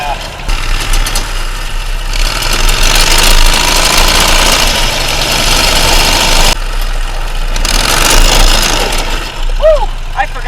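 Off-road go kart with a 16hp V-twin engine running close by, a loud, rough rumbling drone that rises and falls, briefly dips, then continues, with voices heard over it.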